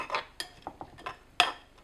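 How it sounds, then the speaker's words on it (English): A spoon clinks and scrapes against a bowl while stirring lemon juice, extra virgin olive oil and a pinch of salt, a handful of distinct, close, quiet taps spaced irregularly with soft swishing between them. "Just give that a stir in with a big pinch of salt."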